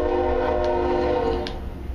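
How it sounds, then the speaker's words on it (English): A train rumbles past with a steady, loud drone in the video game Minecraft, layered with sustained tonal hum and faint ticks. "Here comes the train."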